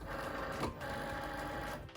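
A Cricut cutting machine pulls in a 24-inch cutting mat while loading for an iron-on ribbon cut, giving a steady mechanical whir and rattle close by for about two seconds, with a brief shift in pitch midway.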